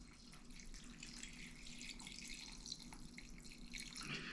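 Water poured into a rock tumbler barrel holding pennies, a faint continuous trickling pour with light splashy texture, quiet and alone without talk.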